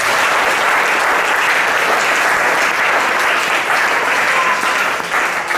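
A church congregation applauds loudly and steadily throughout, a dense and sustained wash of clapping with faint crowd voices mixed in and no pauses.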